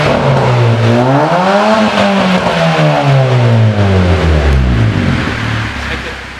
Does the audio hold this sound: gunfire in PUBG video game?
no